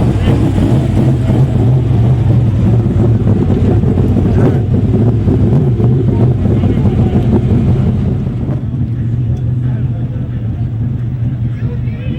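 USAC/CRA sprint cars roar around the dirt track at Perris, California, a dense, continuous engine drone with heavy wind buffeting on the microphone, steady throughout and easing slightly toward the end.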